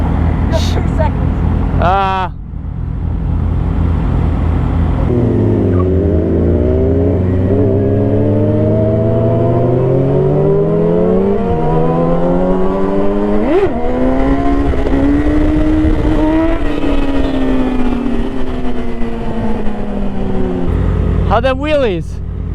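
Sport motorcycles, including a Suzuki GSX-R1000, Kawasaki ZX-10R, Aprilia RSV4 and Honda CBR1000, revving hard and accelerating while doing wheelies on a group ride, with engine pitch climbing through gears, loud and close, ending in sharp revs.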